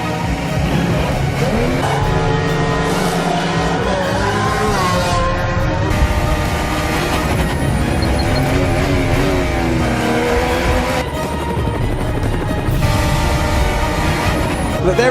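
Formula 1 cars race at full throttle under heavy braking by Nico Rosberg, with loud, continuous engine whine rising and falling in pitch and shifting gears throughout, mixed with crowd and commentary-level noise.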